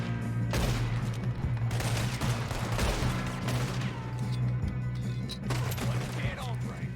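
Shots ring out during a firefight with a man in Red Dead Redemption 2, several bursts over a steady low game hum, with shouting voices in the mix.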